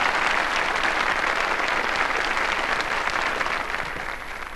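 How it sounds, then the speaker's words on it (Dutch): Dense, steady applause from a television studio audience after a live 1983 Dutch TV show performance, played with a broken string, sustained throughout and easing slightly at the end, with no talk over it. "Geeft u een extra applaus, want het was verschrikkelijk moeilijk voor u."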